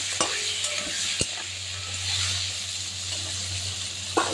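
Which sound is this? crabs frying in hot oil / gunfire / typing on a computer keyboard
crabs frying in hot oil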